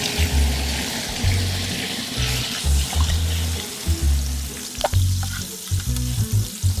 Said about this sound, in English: we're going to pour this in the pot as well.